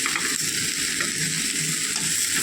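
Tomatoes and green chillies sauté in a hot pan for a hotel-style vada curry, giving a steady even sizzle that carries on alone without talk.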